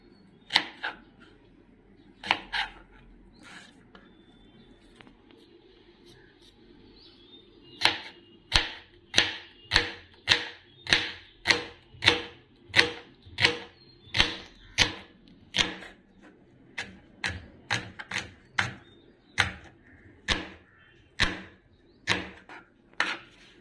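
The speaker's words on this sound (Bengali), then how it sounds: "তো এবার আমরা দুটো পেঁয়াজকে স্লাইস করে নেবো।" Knife slicing two onions on a cutting board: a run of crisp, evenly spaced chops, sparse at first then a steady rapid rhythm, close and clear with no talking.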